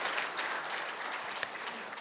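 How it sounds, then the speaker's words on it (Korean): A church congregation at a revival meeting applauds together, a steady dense clapping that fills the room without pause from start to finish. "흰머리 소년들에게도 염색하신 분들까지 포함해서 박수로 한번 격려합시다"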